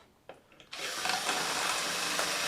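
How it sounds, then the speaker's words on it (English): A power drill runs through the wing hold-down hole of a 3D-printed Taube model plane, starting after a few small clicks and then holding a steady, close, high-pitched whir until the end. "So again, I'm going to just run the drill"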